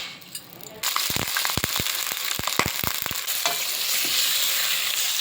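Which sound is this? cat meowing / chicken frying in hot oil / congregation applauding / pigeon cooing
chicken frying in hot oil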